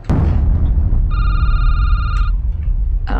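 A telephone rings once in a security guard video game, a steady electronic trill of about a second held over a dense, loud background rumble, with no talk.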